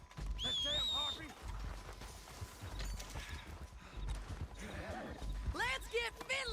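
Several horses neigh and whinny loudly in a chaotic scene, with a shrill whinny at the start and another near the end, hooves and commotion underneath and people shouting over them.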